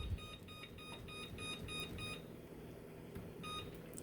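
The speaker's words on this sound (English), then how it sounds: "I'm going to put the timer now at 10 minutes." A kitchen timer beeps repeatedly as it is set to ten minutes, a run of short, bright electronic beeps in an even rhythm over a low background hum, then a few more beeps near the end.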